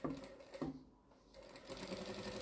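A sewing machine stitches through foam while a tote bag is made from jelly roll strips, a close, quiet whirring run that dips briefly and then resumes steadily.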